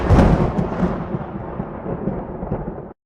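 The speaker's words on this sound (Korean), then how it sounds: "하늘이 노했는지 마른 하늘에 천둥 소리가 벼락처럼 내리꽂혔습니다" Thunder sound effect striking from a clear sky in a folk tale, a heavy rumbling crack at the start that rolls on steadily for about three seconds and then cuts off abruptly, with no voices.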